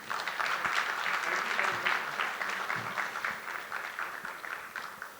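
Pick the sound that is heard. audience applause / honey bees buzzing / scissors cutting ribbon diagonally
audience applause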